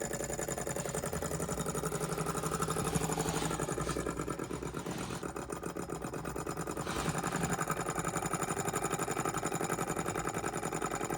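A miniature four-column hot air Stirling beam engine runs on a tiny flame, giving a steady, fast mechanical whirring and ticking hum. It is close and quiet, holding an even level throughout with no voices.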